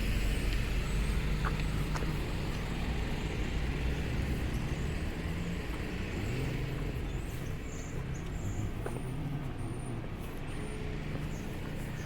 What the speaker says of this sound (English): There's a nice little truck right there. I guess that's a 3-ton.